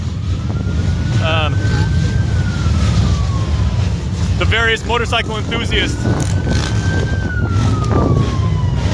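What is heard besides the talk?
police car siren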